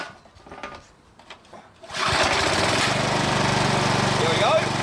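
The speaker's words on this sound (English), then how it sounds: "So if I put the choke start there, guys, it should start up, and then if I go down here," A lawn mower engine that has trouble revving up is started on choke after some handling noise, then runs at a steady, loud, buzzing high idle that continues without a break, with a voice speaking over it.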